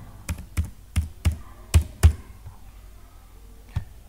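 Computer keyboard keys are struck one at a time while entering a password to lock a pen drive: about seven firm, separate taps in a loose rhythm, a short pause, then one final keystroke, close up.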